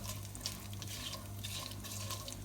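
Faint, steady sizzling of food frying in a pan on low heat for pilau rice, with a low hum underneath and occasional soft crackles.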